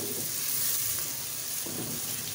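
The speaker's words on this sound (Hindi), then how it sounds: "तो अब हम इसे अच्छे तरीके से फ्राई करेंगे।" Green chillies fry in a pan with a steady, even sizzle that holds for a couple of seconds, alone and fairly close.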